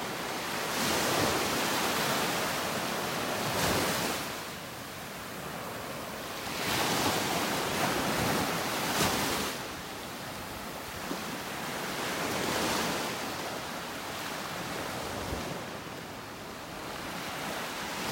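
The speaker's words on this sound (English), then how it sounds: "the water's nice. A little churned up from the waves" Ocean waves rolling onto a beach in North Naples, Florida, surging in broad swells every few seconds with steady surf hiss and some wind noise, no voices.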